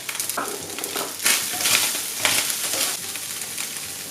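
Onions sauté in a hot pan, giving a close, steady sizzle with brief scraping surges as they are stirred; no talking.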